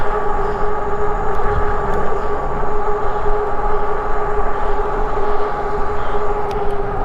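Steady, loud whine of a dual-motor electric vehicle at full throttle climbing a hill at about 26 mph, a constant high motor tone over road rumble with no talking.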